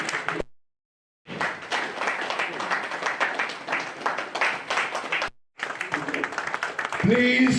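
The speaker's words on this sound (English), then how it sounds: "Please keep clapping until he sits." A large audience at a national sports hall breaks into sustained, dense applause and clapping. The clapping cuts out briefly twice, and a voice comes in under the clapping at the end.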